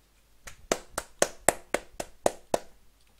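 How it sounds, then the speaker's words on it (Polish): Hands clap about eight times in a slightly uneven rhythm, close and crisp, with no other sound between the claps. "Brawa dla mnie."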